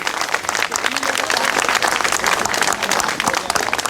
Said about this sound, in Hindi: अरे बहुत कमजोर ताली है